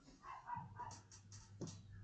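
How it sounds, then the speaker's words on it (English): A neighbor's small dog yaps in the background, a faint, distant run of quick repeated yips heard indoors under low room noise. "I hope you can't hear my neighbor's dog in the background. That thing will be yapping for a while"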